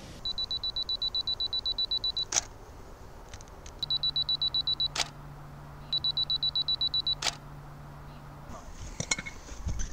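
A camera fitted with an MTO 500mm mirror telephoto lens fires its shutter several times, sharp isolated clicks separated by electronic focus beeps and a low hum, close and fairly quiet.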